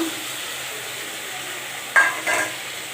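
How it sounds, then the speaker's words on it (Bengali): A short hiss flares as tomato paste hits the hot frying pan of dum aloo, two quick sizzling bursts standing out above a quiet, steady background of cooking noise. "এখন দিয়ে দিচ্ছি টমেটো বাটা।"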